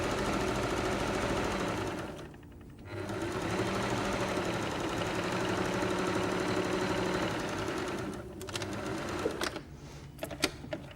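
Close, loud sewing machine stitching down the back and along the bottom of a drawstring bag lining seam, running almost continuously with a brief slowdown early on and short stops and restarts near the end.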